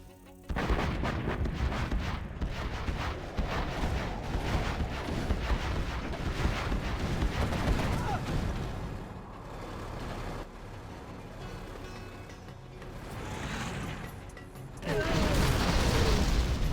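Level 2 artillery in a strategy video game firing and shelling targets, a dense stream of booming blasts and mechanical clatter, heavy at first, easing midway, then surging again near the end.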